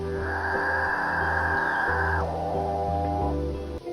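A capuchin bird lets out a long, drawn-out tonal drone that holds steady for a couple of seconds, then drops to a lower pitch, heard over a quiet musical backing.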